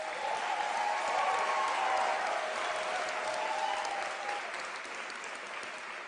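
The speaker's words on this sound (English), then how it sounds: "Let us give them a round of applause." A graduation ceremony audience breaks into sustained applause, dense clapping from a large crowd that swells then gradually tapers off.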